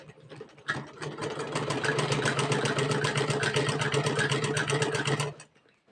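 A sewing machine stitching the side panels of a Patiala salwar, its motor running in a fast, even rhythmic whir that starts abruptly, holds steadily for about four and a half seconds, then stops.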